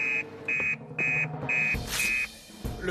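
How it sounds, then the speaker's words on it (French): An alarm sounds in a French children's firefighter cartoon, repeating as loud steady electronic beeps in an even on-off rhythm, with a burst of other noise near the end. "L'alarme!"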